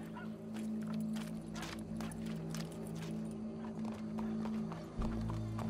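A horse arriving with hooves clip-clopping at a steady walking rhythm, mid-distance and fairly quiet, with a low hum underneath.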